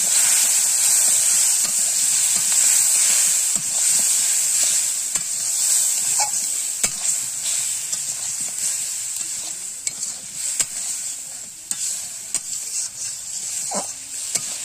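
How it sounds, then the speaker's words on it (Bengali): Potatoes for an aloo potol curry sauté in a pan after a splash of water, a steady bright sizzle with the scrape of a spatula stirring and a few sharp clicks, alone without talk. "সামান্য একটু জল দিয়ে আর একটু কষিয়ে নিচ্ছি"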